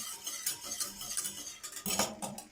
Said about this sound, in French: Donc ça commence à bouillir gentiment. Donc faut pas hésiter à remuer.